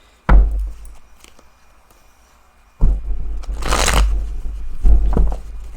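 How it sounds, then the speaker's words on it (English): Close handling of a deck of bent-up tarot cards, with a sharp knock, a quiet pause, then a rustling, slapping shuffle and a few more thuds. "These are so bent up, they're getting hard to shuffle"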